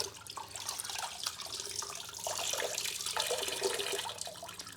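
Optimum No Rinse wash solution runs and drips off a black Infiniti Q50, a faint, steady trickling patter of liquid with small splashes, close by and alone with no talk.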